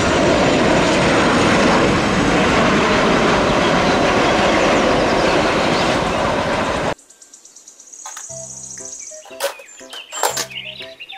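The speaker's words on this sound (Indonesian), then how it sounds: "Pesawat terbang." Airplane engine roaring loud and steady for about seven seconds, then cutting off abruptly into quieter, intermittent mechanical tones and clicks.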